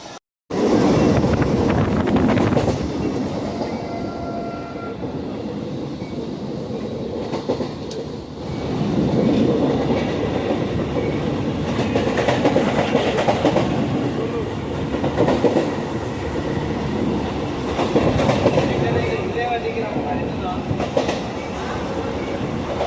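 A train rumbles steadily along the rails, its wheels clattering rhythmically, with wind rushing past for a long stretch and no clear talk.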